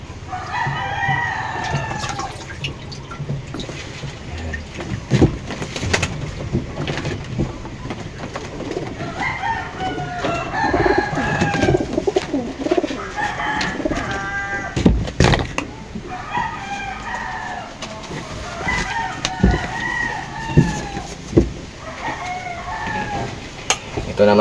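Roosters crow repeatedly amid clucking birds, several calls spread across a noisy yard, fairly close, with faint voices at times.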